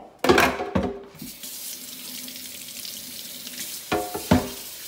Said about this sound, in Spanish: vamos a echarle agua caliente aquí al repollo, a la ensalada.